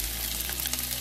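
Smoked sausage and potatoes sizzle and crackle in a pan on a hot stove that is switched off, a brief close frying hiss with no talking.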